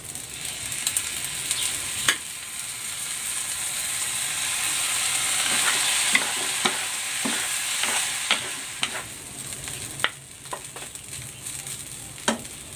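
Rice and prepared sauce fry in a pan with a constant loud sizzle and hiss, broken by frequent sharp scrapes and clinks of stirring, close up and with no talking.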